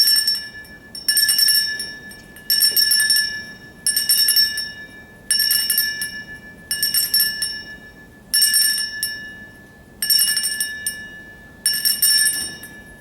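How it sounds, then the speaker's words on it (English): A memorial bell rung ten times at a wrestling alumni banquet: bright metallic strikes at a steady, unhurried pace, each ringing out and fading before the next, loud and close with no talk. "we ring the bell, and I'll see if I can do it 10 times"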